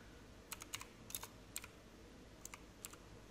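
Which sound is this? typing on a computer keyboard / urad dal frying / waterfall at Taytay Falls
typing on a computer keyboard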